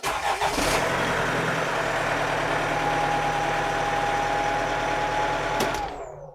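A cold Hyundai Santa Fe engine cranks and starts after its glow plugs have warmed, then settles into a steady, close idle that runs loud and even before cutting off near the end.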